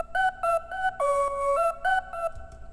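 A bright future bass lead synth plays a choppy melodic pattern of short stabs and one longer held note, clear and alone, ending with a low thump.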